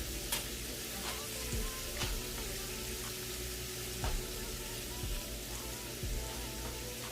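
Cabbage, shrimp and sausage sizzle together in a pan, a steady low frying hiss with occasional faint pops and stirring clicks, no talking.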